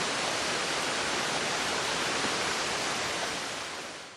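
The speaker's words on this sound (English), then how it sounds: "right here behind me is a waterfall and pool where Kate and Sawyer found that briefcase" Waterfall on Oʻahu pouring into a pool, a steady broadband rushing roar heard alone and close, easing slightly at the end.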